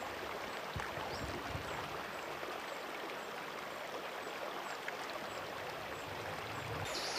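Steady broadband rush of flowing water from a stream in Malestroit, France, continuous and fairly even, running nearby with no voices.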